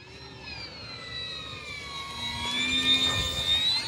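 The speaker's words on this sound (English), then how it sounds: "Landing gear are noisy." Whining, whirring landing gear of a model plane, a rising mechanical drone with high tonal harmonics that grows slightly louder toward the end, heard close and steady without any talk.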